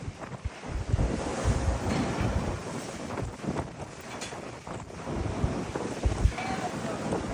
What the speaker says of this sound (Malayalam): രാവിലെ തുടങ്ങിയ വഴിയാണ്, നല്ല കാറ്റുണ്ട് കേട്ടോ